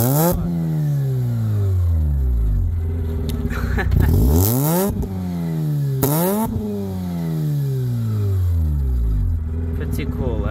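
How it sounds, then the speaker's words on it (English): A Mazda RX8 rotary engine, warmed up after sitting for weeks, revved repeatedly: several sharp rising blips with falling decays, close and loud, spaced a couple of seconds apart. "It warmed up. I can do some revving."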